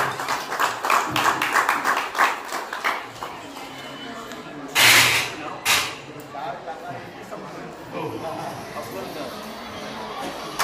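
Scattered hand claps from an audience at a Marathi poetry gathering, a quick run of claps at first, then two sharp louder bursts midway, over steady crowd murmur.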